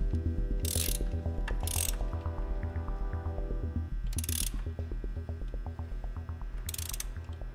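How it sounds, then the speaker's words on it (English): Ratchet of a torque wrench clicking in steady runs while tightening ignition coil pack bolts to 15 foot-pounds on a 1.8T engine, close and loud, with brief sharper bursts between the rapid clicks. "With my torque wrench, I'm gonna go ahead and torque these down to 15 foot-pounds."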